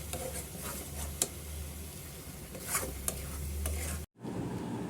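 Ginger and sugar mixture cooking in a pan, stirred with soft scraping over a low sizzle and a few light knocks of the utensil, cutting off briefly near the end.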